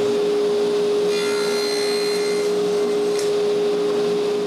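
A router cuts into wooden stiles clamped together, a steady close machine whine holding a constant pitch for the whole stretch, with a few brief rougher cutting bursts along the way.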